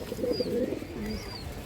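Restless racing pigeons cooing close by, soft repeated throaty coos over a faint background with no talk.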